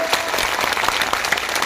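A crowd at the Lathiya festival stage in Jamania breaks into loud, dense applause, close and continuous for the whole short burst.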